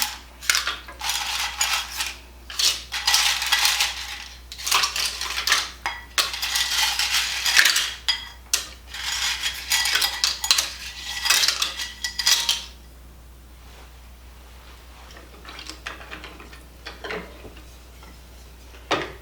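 Broken 1-inch pieces of lasagna noodles, not the no-bake kind, drop into a pot in bursts of hard clattering and rattling for about twelve seconds, followed by quieter scattered ticks.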